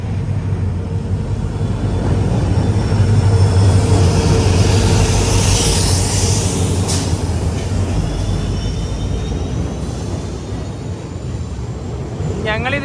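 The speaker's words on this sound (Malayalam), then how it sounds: "intercity express, Lido intercity" Guwahati–Ledo Intercity Express train running on the line in Assam, a loud continuous rumble and rush that holds steady throughout, with a brief high squeal near the end.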